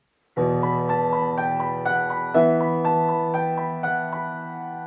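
A short piano passage of the RCM Grade 4 piece "Reflections", with sustained chords and a repeated melodic figure, clear and close, ringing out alone without any talk.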